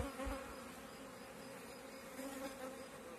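Honeybees hum steadily in an opened hive, a soft close buzzing drone with slight swells, no voices present.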